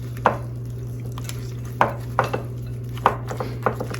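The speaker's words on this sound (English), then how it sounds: "I'm going to mix this with the carrots and the onions." A spoon mixes a filling with carrots and onions in a bowl, giving a few sharp, close taps and scrapes at irregular intervals over a steady low hum, with no talk.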